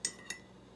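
A spoon clinks twice against a glass French press carafe while coffee is stirred, two quick bright taps about a quarter second apart, fairly close and otherwise quiet.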